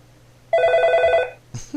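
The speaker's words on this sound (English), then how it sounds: "This was the phone ringing." A telephone bell ring plays as a sound effect in a GameMaker 8.1 Lite game, one bright trilling burst of about three-quarters of a second, loud and close, followed by a short clatter.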